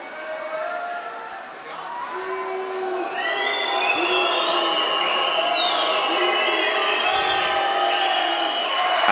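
A basketball arena crowd at a 2018 men's wheelchair world championship game between Italy and Turkey jeers a free-throw shooter, a loud, sustained roar threaded with shrill whistles and rising, wavering tones that swell toward the end.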